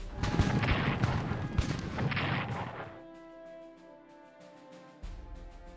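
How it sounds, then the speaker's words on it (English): Heavy artillery fire in the Strategic Command American Civil War strategy game, a rapid series of loud booming thuds for about three seconds, then quieter lingering tones and one more distant thump near the end. "a bit of artillery"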